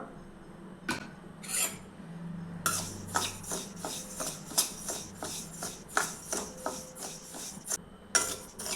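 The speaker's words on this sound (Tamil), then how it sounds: "இதை வறுத்து எடுத்துக்கலாம்" Samba semolina being roasted in a pan, a metal spoon or spatula scraping and clinking against the pan in a steady rhythm of repeated strokes, close up with no talking.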